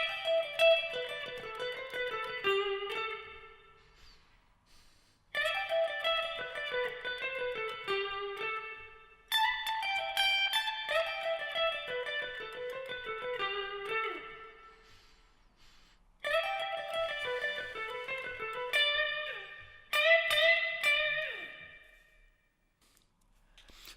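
Electric guitar solo, bright sustained lead lines with bends and slides, played in four phrases separated by short pauses, fairly loud with no talking.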